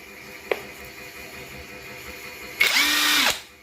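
Cordless PRC impact wrench spinning up in a smooth, steady run of just under a second, with a sharp click just before; close and fairly loud with no talking.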